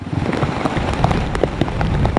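Heavy rain pours down during a tropical storm, a dense, loud patter of drops hitting surfaces close by, steady throughout with no talk.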